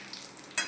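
Chicken curry frying in a pan gives a steady hiss of sizzling oil, with a brief stirring scrape near the end and no talking.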